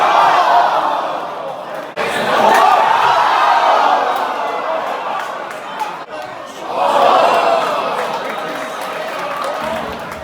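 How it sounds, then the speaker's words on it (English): A soccer stadium crowd at a Canada match in Vancouver swells in loud oohs and aahs, rising and falling in waves of collective reaction that surge twice, with a dense murmur of many voices between the peaks. "And the crowd had lots of oohs and ahs."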